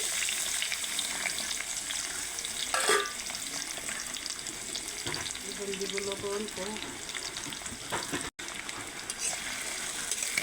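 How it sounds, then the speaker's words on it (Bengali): Chopped onion and garlic fry in hot oil as the base for a prawn curry, making a loud, continuous sizzle with occasional stirring scrapes, a brief muffled voice, and a momentary dropout near the end. "তো দিয়ে দিছি প্রথমে তেল, এখন দিয়ে দিলাম পেঁয়াজ রসুন কুচি,"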